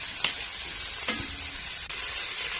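Onion, tomato and black beans sauté in a hot pan with a steady, even sizzle, a few faint scrapes and clicks from stirring, no talking.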